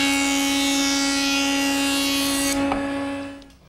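A board edge is fed through a jointer, its steady loud cutting whine with a bright hum lasting most of the stretch before the machine's sound drops away near the end, with a brief knock.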